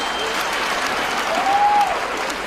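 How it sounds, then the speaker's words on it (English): A crowd at a further education college launch in Free State, South Africa, claps steadily and loudly, with a faint whistle rising briefly over the applause. "Give the sitters a big hand of applause."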